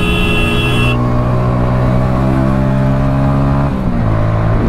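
A Hero Splendor Plus motorcycle with a 97.2cc engine and modified clutch plates revving loud and close, its steady engine drone rising slightly and shifting pitch near the end.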